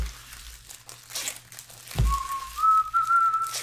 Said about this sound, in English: Oh, that's right, I wasn't whistling anymore.